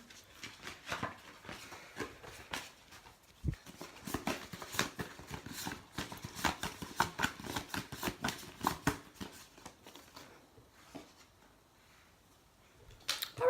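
Someone shuffles a deck of artistic gift oracle cards, producing close, quiet, rapid riffling and flicking bursts in irregular rhythm, with no voices.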